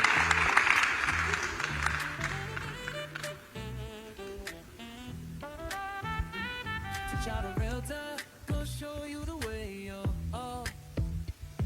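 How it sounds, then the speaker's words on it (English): A short burst of applause at the start fades quickly, followed by a person speaking. "A round of applause for you, please."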